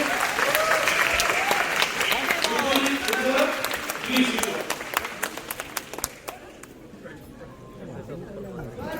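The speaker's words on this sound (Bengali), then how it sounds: "একটা জোরে হাততালি" A crowd applauds with loud, sustained clapping at a film premiere at the Academy of Fine Arts, gradually thinning out and fading, some chatter mixed in.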